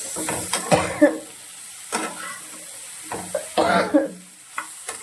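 Spices sizzle in a hot pan under a utensil stirring in short scraping bursts, close and fairly loud, with quieter frying hiss between strokes.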